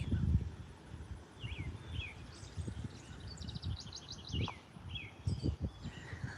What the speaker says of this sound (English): I like the birds.